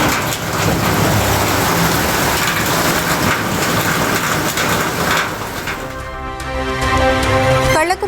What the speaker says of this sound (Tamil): தென்காசி மாவட்டம் சங்கரன் கோவிலில் வெளுத்து வாங்கிய கனமழை.